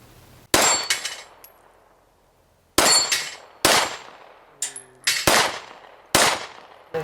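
Five loud, sharp gunshots from a Glock 48 9mm pistol, fired singly and close by at uneven intervals, each with a quick decaying echo, the first after a short quiet pause and the later ones closer together.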